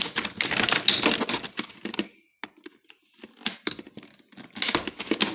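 Packing tape rips and crackles in short bursts as it is pulled off a cardboard box holding a toy barbecue, with quieter pauses in between, close to the microphone.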